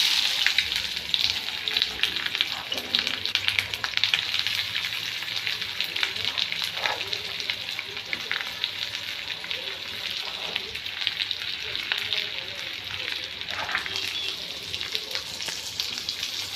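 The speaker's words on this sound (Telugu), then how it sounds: "ఇక్కడ అది బాగా మరిగిన తర్వాత ఆనియన్స్ అయితే వేసుకోవాలండి." Onions sizzle steadily in hot oil in a pan for a Telugu onion curry, a dense, even crackle that carries on without a break for the whole stretch, fairly close, with no talking.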